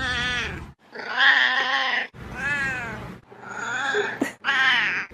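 A cat meows repeatedly and loudly up close, giving several long, drawn-out wailing cries separated by brief pauses.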